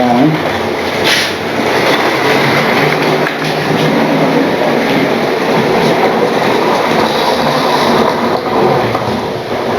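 A model train runs steadily along its track with a continuous rolling rumble and faint clicking, loud and close throughout.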